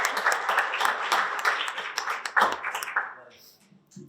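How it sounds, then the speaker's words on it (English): An audience at a business luncheon applauds, a burst of clapping that swells and then thins out before fading near the end. "Round of applause for all of them."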